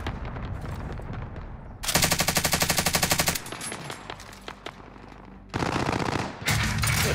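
Automatic gunfire from the Call of Duty Vanguard video game: a loud, rapid machine-gun burst rattles for about a second and a half, then scattered single shots follow before more sustained bursts, all close and without talk.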